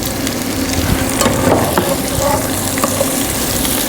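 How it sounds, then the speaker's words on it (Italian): A spoon stirs lemon juice, with two wedges squeezed in, through an Italian couscous-and-fish dish, clinking and scraping steadily and close up over a busy kitchen background. "Nel cucchiaio io così do una mescolata"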